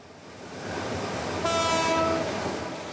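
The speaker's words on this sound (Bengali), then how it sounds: "হুইসেল বাজে, ট্রেনও চলে," A locomotive whistle sounds for about a second over the steady rumble of a train running at a Dhaka railway loco shed workshop, where engines are being prepared and many units are aged and worn.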